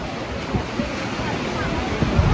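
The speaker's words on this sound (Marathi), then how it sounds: "तुम्ही बघत असाल एवढा वारा येतोय" Strong wind roaring against the microphone on Jyotiba hill near Kolhapur during a storm, a constant rough rumble with occasional heavier gusts and no voices.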